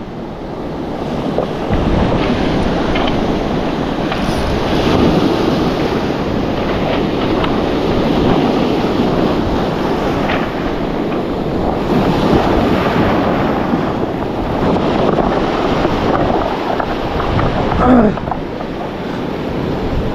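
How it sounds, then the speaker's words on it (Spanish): Waves washing over a rocky shore of round boulders as the tide rises, a loud continuous surging roar mixed with wind buffeting the microphone, with no voices. "Está subiendo la marea."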